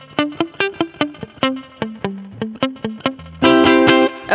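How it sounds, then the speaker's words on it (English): An electric guitar through an amp, its reverb knob at about nine o'clock, plays a run of sharp plucked notes with short trails, then ends on a loud sustained strummed chord. "Here it is with the reverb set at about 9 o'clock"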